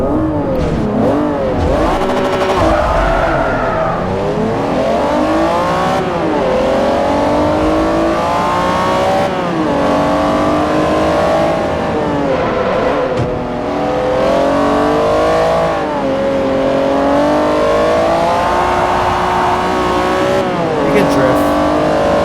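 An Acura NSX race car in Forza Motorsport 4 revs hard and continuously, its engine note sweeping up and down through gear changes with occasional tire squeal, loud and close, while a voice talks over it.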